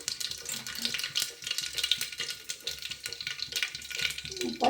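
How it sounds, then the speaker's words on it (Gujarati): Potatoes and cluster beans are tempered in hot oil with mustard seeds and cumin, giving a steady crackling sizzle that pops and fizzes without pause throughout. "પહેલાં શાક વઘારી નાખીએ"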